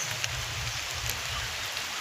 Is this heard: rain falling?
yes